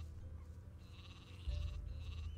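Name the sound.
sheep bleating in Gothic II mod video game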